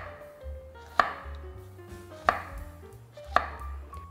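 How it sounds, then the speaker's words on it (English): A knife slicing zucchini into thin slices on a cutting board, three sharp, close chops spaced about a second apart with quiet pauses between them. "Just cut zucchinis into thin slices."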